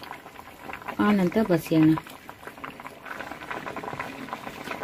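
Beans and toor dal simmer in a pot for bassaru, giving a low, steady bubbling under a brief stretch of talk, then continuing alone afterward.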